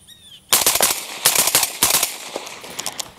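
Rapid bursts of gunfire from an AR-style rifle with a Franklin Armory binary firing system, shots fired on pulling and releasing the trigger at steel targets outdoors, loud and close, in quick uneven strings with brief pauses.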